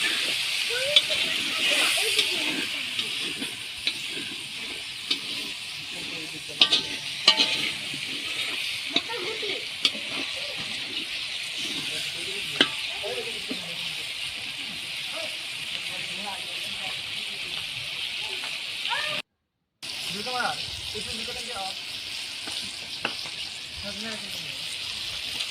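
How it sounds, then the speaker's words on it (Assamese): Pork frying in a pan for rangalao, a steady hiss and sizzle with occasional stirring scrapes, close by under a person talking, with a brief dropout near the end. "এয়া চাওক, মাংস ভাজিছে, ৰঙালাও, গাহৰি মাংস"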